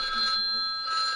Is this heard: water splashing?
no